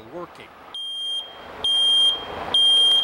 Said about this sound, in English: You can hear it does have a working battery. It should be a working smoke detector